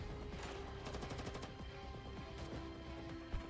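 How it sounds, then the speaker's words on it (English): Dense, continuous rumble of distant gunfire and blasts beyond a fortress in a game, with bursts of rapid shots layered over a steady roar. "more gunshots and explosions resound beyond the fortress"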